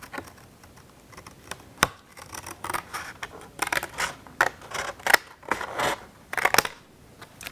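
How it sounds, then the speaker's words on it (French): Scissors snipping paper for a children's drawing craft, a series of irregular close crisp cuts and rustles, some sharp and loud, with no talking. "il y a un petit revers, donc hop, on coupe comme ça"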